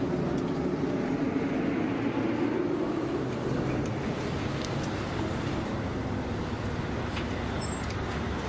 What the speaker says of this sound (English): I'm going to wait for this huge truck to go by,